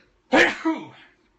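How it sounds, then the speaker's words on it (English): A single sharp, close sneeze bursts out, followed by a brief vocal tail as it trails off into silence. "had a sneeze coming on there"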